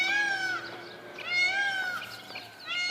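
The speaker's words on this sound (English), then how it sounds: "that's not a cat. That's a peacock" A peacock at a historic ranch park in Glendale gives several loud, wailing, cat-like calls in a row, each a rising then falling cry, repeated close by with short gaps between them.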